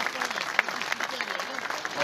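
Applause from the audience at a Salento amateur talent show, a steady mass of clapping that fills the whole short stretch, with a few voices mixed in.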